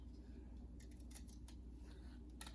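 Scissors cut through folded paper for a craft project, giving a few quiet, crisp snips spaced irregularly against a faint background hiss, with no talking.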